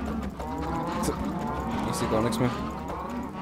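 Cows lowing in the Minecraft video game, burning as they wander about, with repeated moos over a steady game background while a person talks.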